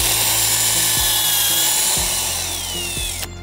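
Power drill boring into a Huang Hua Li rosewood tree trunk, reaching the dense heartwood: a steady, loud whine with a low grinding rumble and periodic pulses, ending in a brief sharp knock near the close.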